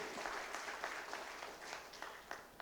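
An audience claps at a student council investiture ceremony at St. Aloysius university, giving a steady, moderately distant round of applause with scattered sharper claps, no talk on top.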